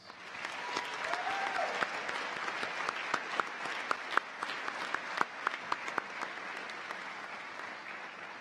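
A commencement audience at the College of DuPage applauds faculty members, with dense, sustained clapping from a large crowd that holds steady and shows sharp individual claps near the front.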